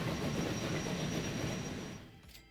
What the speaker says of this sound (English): there's one of the expresses bound for Edinburgh